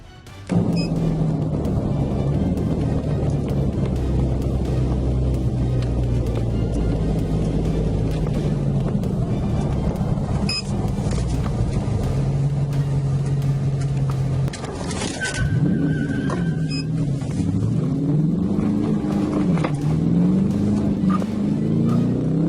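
A speeding Dodge Challenger fleeing police roars continuously, its engine pitch holding steady and then rising and falling as it revs and shifts, loud and sustained throughout with rushing road and wind noise.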